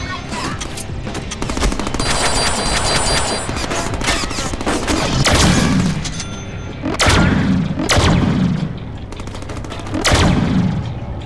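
Repeated gunfire in the Deadpool action game: a dense stretch of rapid shots followed by several heavy, booming blasts about a second apart, all loud and close.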